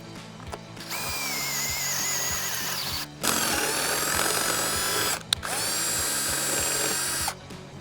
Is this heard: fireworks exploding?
no